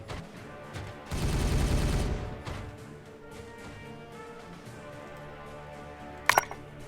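Gunfire from the video game Warhammer 40k Regicide: a loud burst of rapid shots in the first seconds, then a quieter game soundscape and a brief sharp crack near the end, no talk.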